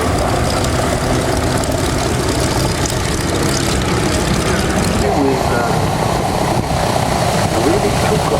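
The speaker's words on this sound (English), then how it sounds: "All these are aeroplanes." Propeller aeroplanes at the Duxford Flying Legends airshow, giving a loud, steady engine drone that fills the whole stretch without pause, with crowd noise underneath.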